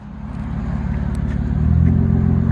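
A Nissan Maxima 3.5L V6 with a modified exhaust revs, a loud deep throbbing drone close by that climbs steadily in pitch and loudness over a couple of seconds, with no speech.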